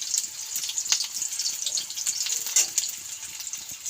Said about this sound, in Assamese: মই ইয়াত পিঁয়াজখিনি এৰি দিলোঁ তেলতে। এতিয়া এইখিনি অলপ ৰঙচুৱা হ'লেও ভাজিম।